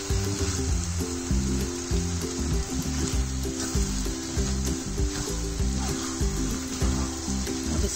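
Veg keema frying and being stirred in a pan, a steady close sizzle running through the whole stretch with a continuous rhythmic low-pitched pattern layered underneath.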